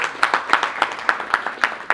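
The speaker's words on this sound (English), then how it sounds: "Let's clap for these artists, ladies and gentlemen." Steady hand clapping in an even rhythm, several claps per second, fairly close and moderately loud, like a small group applauding.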